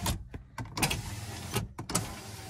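An aftermarket car power window motor runs in short bursts, whirring and clunking with stops and starts, close and moderately quiet, with no talking.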